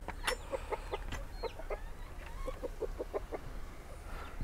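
Backyard chicken flock clucking in a chicken compost setup, a string of soft repeated clucks and murmurs at a moderate distance, fairly quiet.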